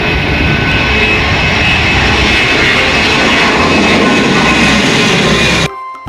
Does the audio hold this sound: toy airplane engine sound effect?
yes